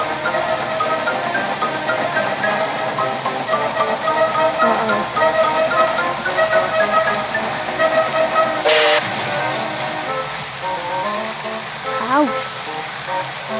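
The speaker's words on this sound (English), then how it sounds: "Oh, that's Rusty's horn." A chugging cartoon steam train rolls along with a rhythmic engine, and a whistle-like horn sounds briefly near the end, with voices talking over it.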